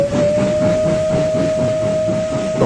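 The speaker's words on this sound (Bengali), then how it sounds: "তখন চলতো কয়লার ইঞ্জিন। ট্রেনটা একরাশ কালো ধোঁয়া আর ছাই উড়িয়ে ঢুকলো ঝাঁঝাগঞ্জ নামক এক স্টেশনে" A cartoon coal-fired steam locomotive pulls into a station, its loud sustained whistle ringing over a rhythmic chugging and rumble of the train.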